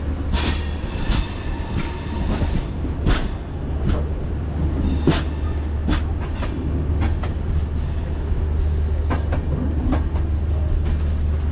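The Mandovi Express pulling into Khed station in Konkan: a loud, continuous rumble of rolling railcars with repeated sharp clanks and clacks from the wheels and couplings, heard up close on a busy platform.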